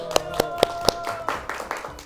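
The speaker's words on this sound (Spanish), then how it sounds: "Un aplauso." A few people clap for a guest on a small Spanish-language film talk show, a handful of distinct, evenly spaced claps followed by softer scattered ones.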